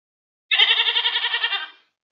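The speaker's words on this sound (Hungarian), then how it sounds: "az utolsó állatunk lesz a kecske, aki mekeg" A goat bleats once in a drawn-out, wavering call lasting over a second, close and clear with no other sound around it.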